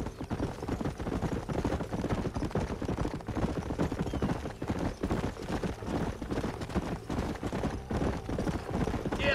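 Horses trotting in the video game Red Dead Redemption, a brisk continuous clip-clop of hooves with a rhythmic steady beat, close and prominent, with ambient game sound underneath.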